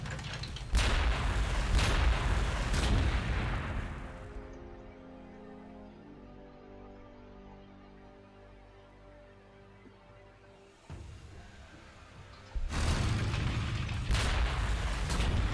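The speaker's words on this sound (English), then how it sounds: "Let's go ahead and take the artillery shots we've got." Artillery shells fire in a turn-based Warhammer 40,000: Gladius strategy match with Astra Militarum forces, several heavy booming volleys at the start, a quieter rumbling stretch, then another loud burst of blasts near the end.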